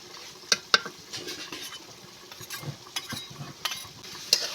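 Boiled lentils being mashed with a bowl in a pot, soft scraping and squishing with a few sharp clinks of metal against the pot, fairly quiet and close.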